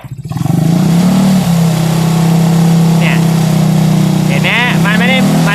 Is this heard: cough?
no